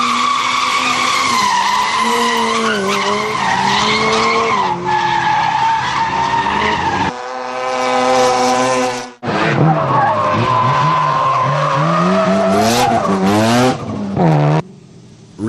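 Drift car tires skid and squeal at Irwindale, loud and sustained with wavering pitch and engine revving, broken by a brief pause partway through and a quieter tail at the end.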